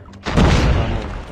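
A single shotgun blast in Call of Duty, one sharp booming shot that decays over about a second, close and alone.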